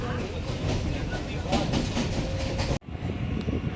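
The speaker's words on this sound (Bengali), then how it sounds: "আস্তে আস্তে ট্রেনে ওঠা যাক" A suburban train rumbles loudly along the rails near Dum Dum and Bidhannagar with a rhythmic clattering, heard up close from on board, briefly dropping before the roar resumes.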